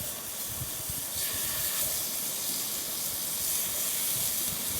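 Monkfish sizzling in a hot pan, a loud continuous hiss close by that swells slightly after the first second and then holds steady, with no speech.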